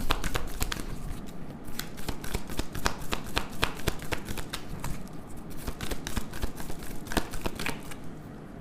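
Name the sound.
tarot cards being shuffled and drawn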